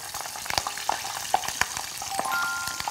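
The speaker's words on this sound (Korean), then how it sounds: "고추를 튀기는 것도 제가 또 처음 보거든요." Chili peppers deep-frying in hot oil, with steady bubbling sizzle and crackle punctuated by sharp pops, close and fairly loud throughout a short burst.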